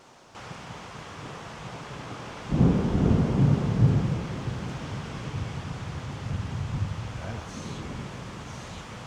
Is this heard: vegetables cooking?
no